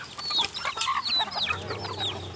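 Several free-range chickens cluck and chirp close by, a busy overlapping chatter of short calls with no talking, as they are fed unhusked rice grain.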